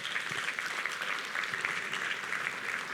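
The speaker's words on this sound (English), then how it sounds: "I hear the online claps going" Steady applause from an audience at a high school graduation ceremony, a continuous dense patter of clapping that holds at an even level throughout without voices.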